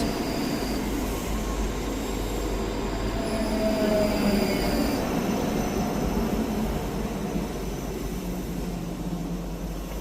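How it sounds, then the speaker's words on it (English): A ScotRail class 334 electric train departs Edinburgh Haymarket, a sustained loud rolling rumble of wheels with high squeals and electric whine rising and fading over the platform. "Departing out now is the 1227 Scotrail service from Helmsborough Central to Edinburgh Waverley."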